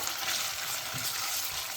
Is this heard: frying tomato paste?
yes